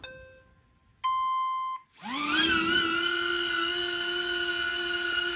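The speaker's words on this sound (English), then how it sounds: "Yes, I know it's loud, but it's a drone" A HOVER Air X1 pocket drone spins up with a rising whine, then holds a loud, steady high-pitched buzzing hum from its propellers, close by, preceded by a short electronic beep tone.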